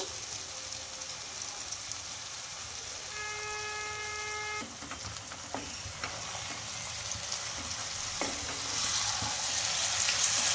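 Chopped spring onions hiss and crackle in a hot pan of chilli-spiced leftover rice roti mixture as they are stirred. The sizzle is soft, with scattered scrapes, a brief tonal beep partway through and a gradual swell in the frying noise.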